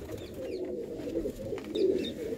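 Racing pigeons kept by a fancier in Sri Gobindpur, Gurdaspur, cooing softly in low repeated rolls with a few faint chirps, close and steady, without talk.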